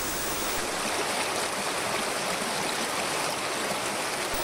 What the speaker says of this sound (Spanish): Estas aguas hacen un frenético viaje resbalando sobre las piedras, despeñándose en saltos verticales.